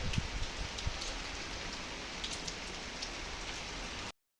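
Soft, steady rain patters on a surface with a constant hiss and a few nearby drips, then cuts off abruptly.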